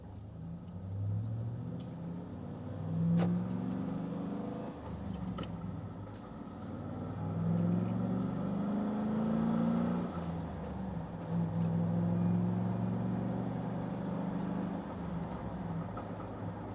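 A 2005 Chevrolet SSR pickup with a manual clutch pulls away and accelerates, its engine droning low and steady, rising and settling in pitch through the gears. Heard from inside the cab, with no talk.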